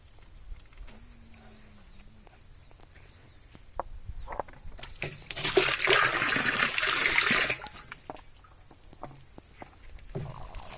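A small powder packet is stirred into a container of water for a homemade fungus treatment for bottle gourd plants. A low background hum gives way to a loud, rushing swirl of water for a few seconds, which then settles back to quiet.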